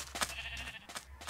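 Sheep bleating in the game Minecraft, a few short repeated bleats at moderate level over a faint steady background, with no talking.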